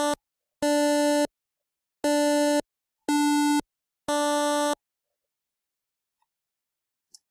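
Game Boy APU square wave tones from the Freeboy emulator with a duty setting, five short bright buzzy beeps in an even rhythm, then silence.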